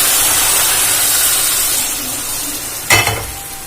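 Fried vermicelli being stirred with powdered milk in a pan gives a steady, loud sizzling hiss that eases slightly midway, then a sharp scrape or clank of the spoon against the pan near the end.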